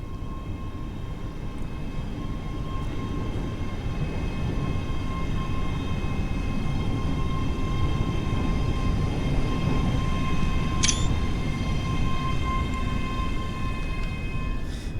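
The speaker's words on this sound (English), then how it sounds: "Here comes the train." Scotrail express train arriving in the Train Sim World 3 game, a loud, sustained low rumble with steady tonal hums that swells slightly as it draws in.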